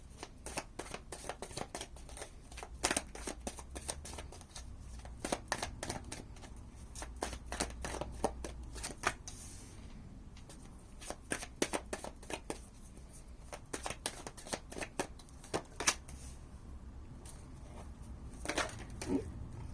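Tarot cards shuffled continuously at close range during a reading, a steady run of crisp riffling clicks and soft card slaps with brief pauses, no talking.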